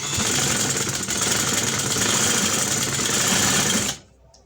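Sewing machine stitching a decorative neckline design on ladies' clothing, running continuously with a fast, dense mechanical whir close by, then stopping abruptly near the end.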